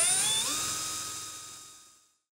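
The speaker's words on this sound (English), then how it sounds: "This is also the point where any mounting holes should be drilled through the aluminum." A drill whines at high speed while making mounting holes through aluminum for a van build floor, then the motor spins down, fading over about two seconds before a brief click.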